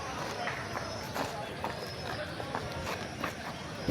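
Horses' hooves clip-clop at an equestrian outing in Cameroon, the irregular, moderately close thuds heard under people talking.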